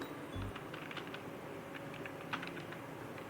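Soft, steady clicking of computer keyboard keys in a quiet room, a fairly even run of keystrokes with a faint hum underneath.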